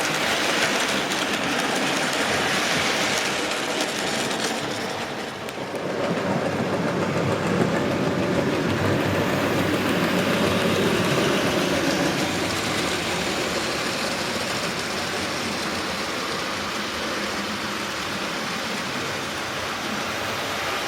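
A model railway train runs along the track with a continuous, fairly loud rolling hiss and faint rhythmic clatter that swells midway and carries on steadily, with no talking.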